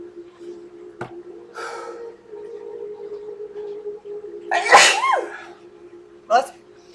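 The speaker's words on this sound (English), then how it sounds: "I'm about to sneeze." A single sharp, loud sneeze bursts out near the microphone, preceded by a brief inhale and followed by a short breathy snort.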